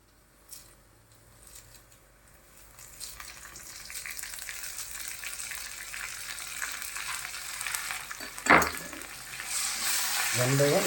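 Tomato masala for a fish curry frying in a pan, a soft sizzle that builds over the clip with stirring scrapes and one sharp clatter near the end.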